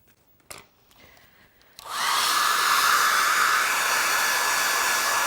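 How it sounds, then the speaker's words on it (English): A hair dryer used to dry a watercolour painting switches on after a few quiet clicks and blows steadily with a loud, continuous whooshing roar until the end. "now we use the hairdryer"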